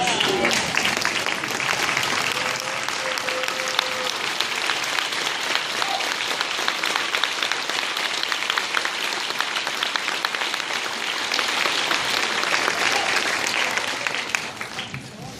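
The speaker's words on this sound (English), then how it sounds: "If everyone could please stand and give my mom, Joyce Phillips, a round of applause." Sustained, dense applause from a standing crowd at a graduation ceremony, loud and continuous for about fifteen seconds before tapering off at the very end.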